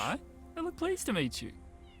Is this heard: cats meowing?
yes